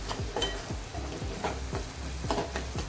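Homemade masala sizzles and fries in a hot pan, stirred in repeated scraping strokes before spiny gourd (kantola) is added, a close, moderately quiet crackle with rhythmic stirring bursts and no talking.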